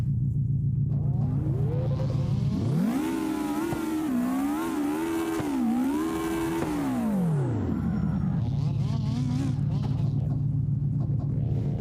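A Subaru WRX engine in a driving video game at a slidestyle practice at Navaro, idling steadily, then revving up hard, holding high and wavering for several seconds, then dropping back to a rumbling idle, loud and close.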